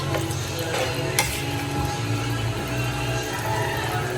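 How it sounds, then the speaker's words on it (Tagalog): Spaghetti sauce stirred in a pot, with a steady, fairly loud scraping and churning that carries on without pause, alongside faint clinks of utensils. "Pahaluin lang po natin maigi."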